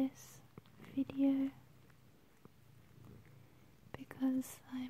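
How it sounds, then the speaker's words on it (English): A pet cat purrs softly while cuddling in bed at bedtime, a faint low rumble close by, interrupted by quiet whispered speech at the start, middle and end. "We're in bed relaxing and he's purring"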